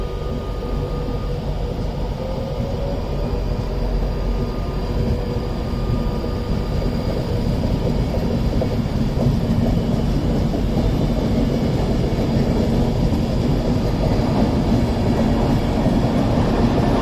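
An Avanti West Coast Class 390 Pendolino electric train, unit 390 013, moves at Stockport station on the West Coast Main Line, a loud continuous rumble and wheel noise with traction hum, no voices.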